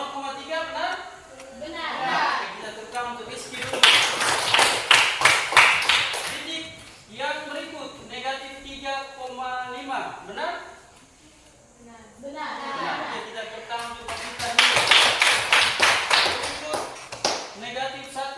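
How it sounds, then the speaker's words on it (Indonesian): Students in a classroom clap together in a quick, patterned rhythm in two separate bursts of sharp, close claps for a classmate. Spoken exchanges come before, between and after the bursts. "Nah, kita tepuk tangan untuk Rizky dulu."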